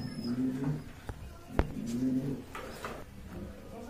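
Running pigeons for sale at a market coo softly and repeatedly, low and close, with a single sharp knock partway through and steady background hubbub.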